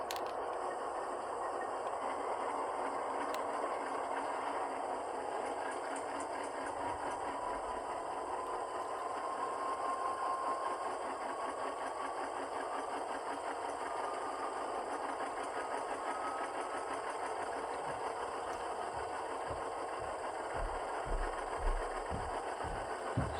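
An Athearn HO scale AC4400CW diesel locomotive with a Tsunami 2 sound decoder drones steadily as its engine notches up slowly toward full throttle, a continuous loud rumble with a rising whine, alone and without talk.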